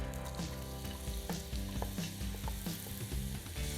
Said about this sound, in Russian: На сковороду наливаем растительное масло и кладем нарезанный лук.